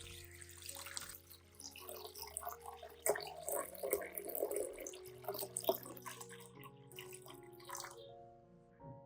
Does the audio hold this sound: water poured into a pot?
yes